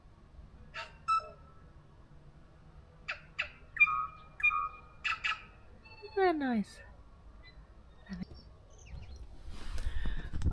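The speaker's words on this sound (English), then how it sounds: "I don't know if you can hear the birds." Small birds chirp and call in short, scattered bursts outside a caravan, fairly close but not loud, with a low steady background hum and a few brief spoken words between the calls.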